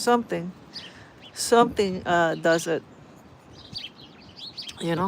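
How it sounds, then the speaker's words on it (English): Small birds in a bush chirp faintly in short high tweets in a snowy backyard, mostly during pauses and under someone speaking close by. "Do you guys hear the little birds in the background?"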